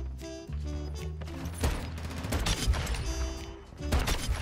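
Desert Eagle pistol shots in Modern Warfare 2 ring out as sharp, scattered cracks over a bed of steady game music and effects, loud and close throughout.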